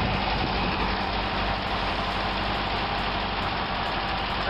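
An old bus engine idles steadily just after starting, a loud, continuous low rumble with dense broadband noise and no speech over it.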